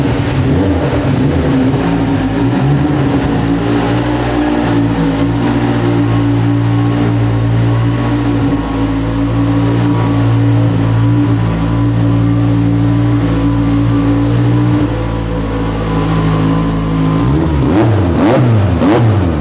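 A 1000hp all-wheel-drive Honda Civic with an Outlaw Sonic K-series engine and FuelTech 550 fires up on a dyno, settling into a loud, rough, lumpy idle with blips of revving near the end, up close and without talk.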